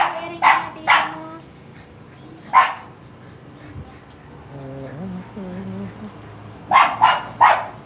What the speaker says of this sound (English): Look at the dog, he's acting crazy.